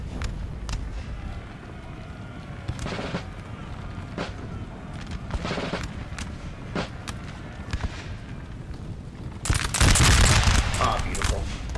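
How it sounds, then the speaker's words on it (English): Musket volleys crackle in a Napoleonic Total War 3 multiplayer battle, with scattered sharp shots giving way to a dense, loud burst of massed gunfire near the end, and faint talk underneath. "These brave Russians are about to get volleyed."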